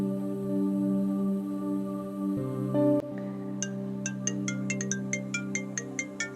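A phone ringtone plays in a series of bright, evenly spaced electronic chirps, following a sustained musical tone, loud and close, during a narrated Hindi story when a call comes from Aman's friend Kartik.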